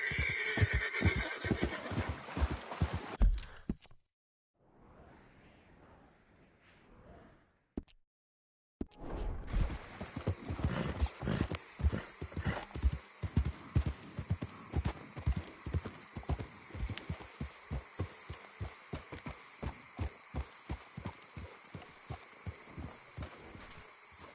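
A horse in a PS4 video game whinnies and trots with rhythmic clip-clop hoofbeats. A short quiet gap interrupts before steady galloping hooves resume, loud and close.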